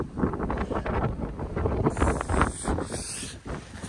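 Strong wind on an Aravalli hilltop buffets the microphone with constant rumbling gusts that roll and swell throughout, loud and close, with no speech.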